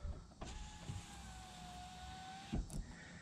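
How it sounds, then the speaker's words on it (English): Power windows on a 2019 Ford Ranger lowering together, a steady close motor whir lasting about two seconds, bracketed by soft clunks at the start and stop, with no voices. "If I unlock, lock, unlock, it'll put the windows all the way down and unlock the vehicle"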